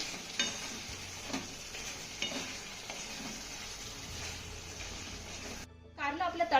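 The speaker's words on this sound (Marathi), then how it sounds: "हे कारलं आपल्याला एकदा तळापासून चांगलं हलवून घ्यायचं आहे" Cooked bitter gourd with buttermilk stirred in a pan, a low simmering sizzle with occasional spatula scrapes, then a short pause before a voice starts speaking at the end.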